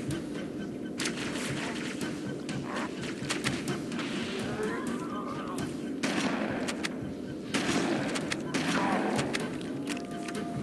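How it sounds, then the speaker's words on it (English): Dense video game combat in Halo 1 with a string of grenade blasts and gunfire, booms and rattling shots packed together close up, with a voice talking over them. "String of nades going towards me, basically."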